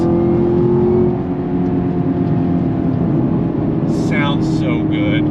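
Engine of a 2021 Chevrolet Camaro ZL1 1LE droning loud and steady at speed, with a voice speaking briefly over it near the end.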